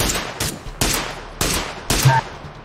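Five sharp gunshots ring out in PUBG Lite, evenly spaced about half a second apart, each a loud close crack with a short decaying tail.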